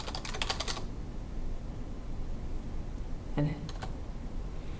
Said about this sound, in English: I'm all the way over here typing